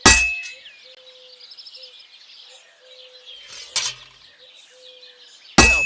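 Hammer blows ring out on a sword blade at a forge in Kingdom Come: Deliverance II, two sharp metallic clangs about five seconds apart with a bright ringing tail, faint birdsong between them.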